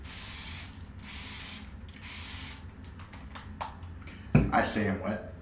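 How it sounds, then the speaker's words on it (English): Oud Spice body spray hisses onto a face in several short bursts, followed by quick rustling and a sudden louder rub or movement sound near the end. "And we're gonna spray my face."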